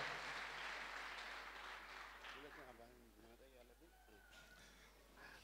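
Applause from a church congregation, a dense burst of clapping loudest at the start and gradually thinning, with voices talking and calling out over the fading claps.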